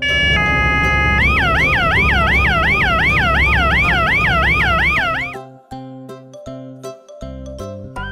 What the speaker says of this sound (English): Police SUV